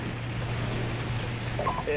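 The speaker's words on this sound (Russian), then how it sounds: "Обалдеть, тут волны вообще жесткие." Rough sea waves in Call of Duty 4: Modern Warfare, a steady loud surf and wind roar with a low engine-like hum underneath, continuous throughout with faint voices near the end.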